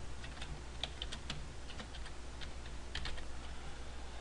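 Quick, light clatter of keys as an email subject is typed on a computer keyboard, a short run of close taps over a quiet, steady room hiss.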